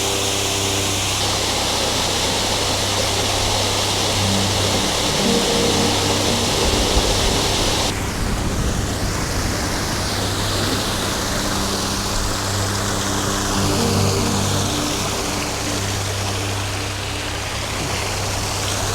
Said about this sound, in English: What a unique looking waterfall here with the log